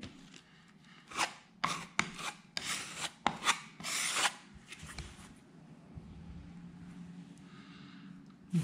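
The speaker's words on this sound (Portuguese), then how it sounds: "claro, tem que passar uma lixa de leve, né?" Light sanding with sandpaper during a home renovation: a run of short, close rasping strokes in uneven bursts, then quieter low background for the last few seconds.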